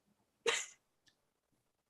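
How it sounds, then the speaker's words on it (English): One sharp, close cough bursts out of near silence, followed by a couple of faint small sounds. "I had to cough."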